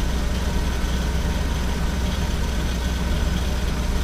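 A car engine idles steadily with a low, even rumble and faint rhythmic pulsing, continuous and fairly close, with no talking.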